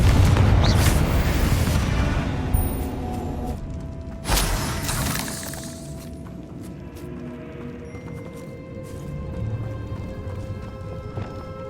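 A Confringo blasting spell explodes in the video game Hogwarts Legacy, a loud broadband boom with a sharp burst near the middle, amid rumbling game effects and a lingering low tone that fades over several seconds.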